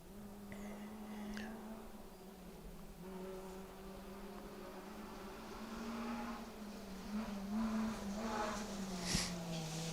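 A Nissan Micra rally car driven hard on a forest stage sounds faint and distant, its engine note rising and falling through gear changes as it approaches through the trees.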